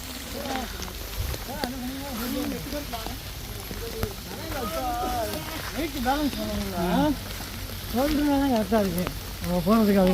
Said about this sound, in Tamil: மழை ஹெவியான மழை பெஞ்சிக்கிட்டு இருக்கு பாருங்க.